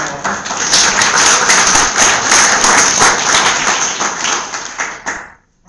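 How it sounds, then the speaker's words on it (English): A conference audience claps after a Drupal theming talk: sustained, dense applause with many distinct hand claps, loud and close, tailing off at the end. "Let's give him a round of applause."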